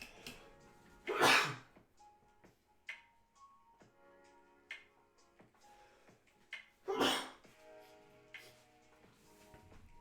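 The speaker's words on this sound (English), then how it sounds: "caught a sneeze" Two sharp sneezes burst out, one early and one later, each loud and close against an otherwise quiet room with small ticks and clicks between them.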